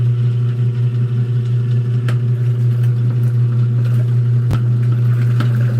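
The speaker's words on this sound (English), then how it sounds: "but the impeller so you can see what's going on" A motor-driven impeller churns steadily inside a VATOH leaching tank used for gold, giving a loud, constant low hum with a couple of brief clicks.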